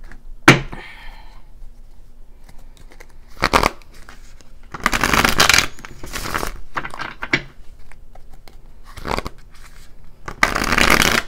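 Tarot cards being shuffled, a series of crisp riffling bursts with short pauses between them, close and fairly loud, with no talking.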